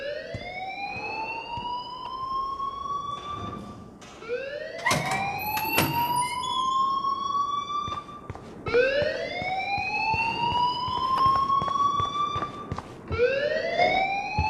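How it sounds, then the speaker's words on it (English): A school alarm in the video game Life is Strange wails in repeated rising sweeps, each climbing then holding before restarting, loud and continuous throughout with no talking. "please turn off that alarm since that's your job."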